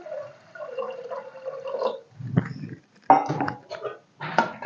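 Water splashes and gurgles into a pot of cooking lentils in uneven bursts, with short gaps of silence between pours.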